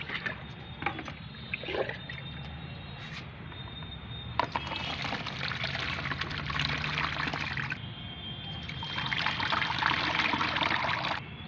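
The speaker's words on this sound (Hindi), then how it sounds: "तो मैं इसे छानती हूँ।" Homemade fertilizer liquid made from fruit and vegetable peels is strained, giving a steady trickling pour that starts faintly and grows fuller and louder in two long stretches, close by with no talking.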